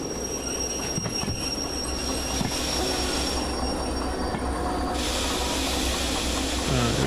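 Locomotive in the Derail Valley train game coming in too fast, a loud rumbling rail roar with wheel squeal and hissing, steady throughout.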